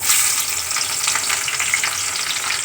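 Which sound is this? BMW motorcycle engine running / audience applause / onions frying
onions frying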